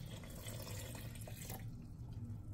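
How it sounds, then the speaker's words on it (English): Water pours steadily into a blender over strawberries, a soft continuous splashing trickle heard close up without any voices. "We're gonna add water, just enough to cover it."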